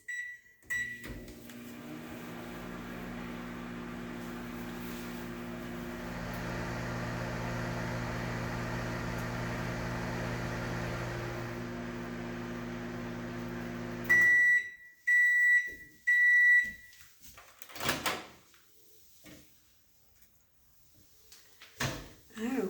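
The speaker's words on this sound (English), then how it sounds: "we're going to put it in our microwave" A microwave hums steadily for about fourteen seconds, then gives a series of short, sharp beeps followed by clunks of the door and handling.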